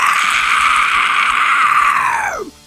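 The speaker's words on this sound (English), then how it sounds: "And then as I do a fry scream." A single sustained vocal fry scream, harsh and raspy, is held loud and close for over two seconds before trailing off abruptly into a short drop at the end.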